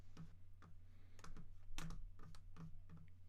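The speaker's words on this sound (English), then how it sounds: "I am typing them all" Keys clatter on a computer keyboard in short irregular bursts of typing, close and fairly quiet, with a low steady hum underneath and no speech.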